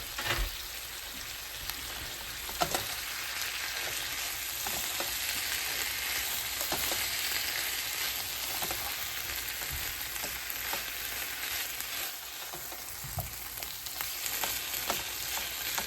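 Potatoes and meat frying in a pan, giving a continuous bright sizzle with scattered faint pops and occasional stirring clicks, steady and close, with no talking.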